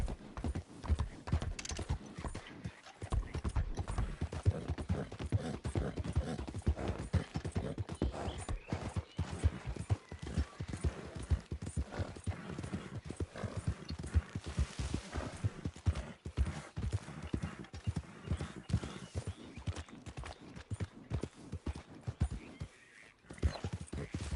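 Horse hooves galloping in Red Dead Redemption 2, a loud, close, continuous drumming of rapid rhythmic hoofbeats that carries on without pause, with only scattered faint voice.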